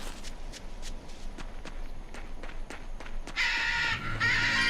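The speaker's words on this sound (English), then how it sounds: "Go away, bird." Crow caws from Tales of Berseria gameplay come in at the end as a loud harsh burst, after a run of soft, evenly spaced footsteps.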